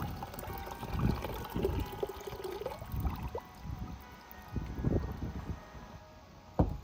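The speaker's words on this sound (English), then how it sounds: "I diluted boiling water with cold water." Cold water is poured into boiling water to dilute it, giving uneven splashing and trickling pours with a few sharp knocks from the container.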